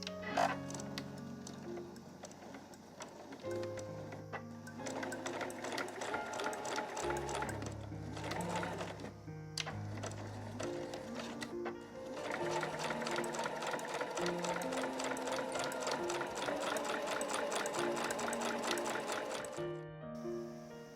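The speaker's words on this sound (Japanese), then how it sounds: "両脇を 5mm で縫います。" A sewing machine stitches along both sides of a tatami edge trim in steady bursts of rapid needle ticking, broken by short pauses, close and clear with no talking.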